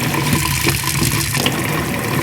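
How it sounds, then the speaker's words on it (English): Cold water gushes steadily from a tap, a continuous broadband rush filling a sink for rinsing a bleach-dyed T-shirt, close and unbroken with no talk. "I'm gonna turn on the cold water."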